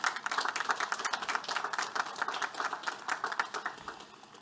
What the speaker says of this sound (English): So let's give a round of applause to Teresa and Terry.